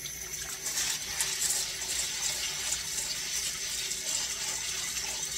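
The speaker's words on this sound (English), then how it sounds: "you put your black beans in it," Cold water runs into a bowl of dry black beans to soak them for black bean soup, a steady, close, hissing pour that stays even throughout with no voices.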